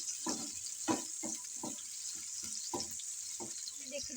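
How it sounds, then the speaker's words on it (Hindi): Onions frying in oil until lightly pink, a quiet sizzle broken by repeated irregular scraping stirs. "तो सबसे पहले मैं प्याज को थोड़ा सा फ्राई कर लेंगे।"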